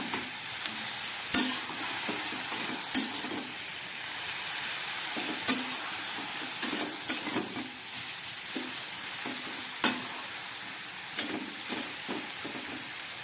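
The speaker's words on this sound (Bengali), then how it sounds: "আবার একটু নেড়ে নিচ্ছি।" Food with turmeric sizzles steadily in a pan while a spoon stirs it, giving sharp scraping knocks at irregular intervals over a continuous frying hiss, with no voices.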